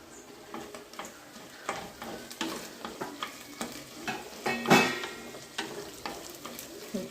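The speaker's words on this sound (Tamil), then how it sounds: "இப்போ தக்காளி போட்டு வதக்கணும்." Tomatoes with curry leaves are stirred in a pan, giving a quiet sizzle broken by repeated spatula scrapes and taps at a fairly steady pace, close by and without talk.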